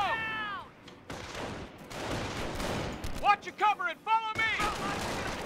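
A grenade explosion and bursts of gunfire ring out in the World War II strategy game Company of Heroes during the Carentan mission, with sharp cracks and rattling volleys mixed among game voices and noise.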